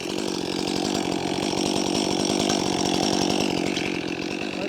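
Chainsaw cutting through a dead, dangerous tree during felling, the engine running loud and close at a steady high rev with a rapid pulsing chatter throughout.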